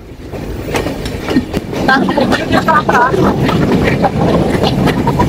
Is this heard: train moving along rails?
yes